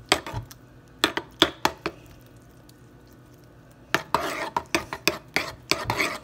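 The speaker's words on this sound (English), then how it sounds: "So now you're gonna get the spoon. And you're gonna stir it until it's nice and creamed up." A spoon stirs cream of wheat in a pot, making a series of close, sharp scraping clinks in two bursts separated by a quiet pause.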